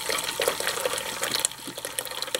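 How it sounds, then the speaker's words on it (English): Cowboy coffee poured slowly through a strainer into a plastic container at camp, a steady close trickle and splash of liquid running alone with no talk. "I'm going to go ahead and pour the coffee through this strainer into a plastic container that I happen to have."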